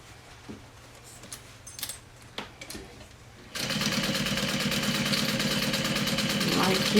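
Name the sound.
sewing machine stitching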